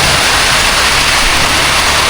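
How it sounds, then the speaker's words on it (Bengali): Heavy rain pours down in a dense, loud, unbroken hiss of broadband wash with no pauses and no voices. "তো কঠিন বৃষ্টি নামছে।"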